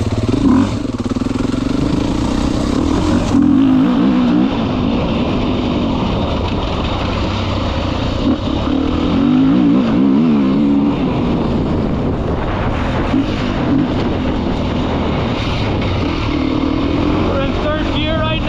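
Beta 390 RS dirt bike engine pulling hard and steady under acceleration in third gear, loud and continuous with wind rush over the microphone and a rider talking throughout.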